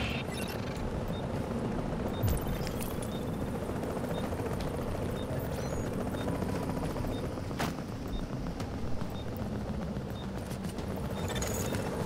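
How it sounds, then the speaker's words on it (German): A helicopter in The Division video game approaches with a continuous dense rotor roar that fills the whole stretch at steady loudness, with faint mechanical ticks and clicks scattered on top. "Helikopter im Anflug!"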